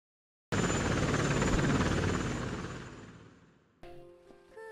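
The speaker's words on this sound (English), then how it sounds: "a helicopter descending" A descending helicopter cuts in suddenly with a loud, broad rotor and engine roar that holds steady, then gradually fades away, followed by a few faint tonal beeps.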